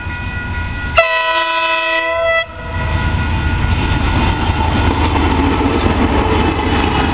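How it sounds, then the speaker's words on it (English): A KiwiRail DL class diesel locomotive hauling a short train at Mount Maunganui gives a loud, multi-tone horn blast of about a second and a half, followed by the steady, close rumble of the train rolling past. "here comes DL9481 again with the unexpectedly short train 334"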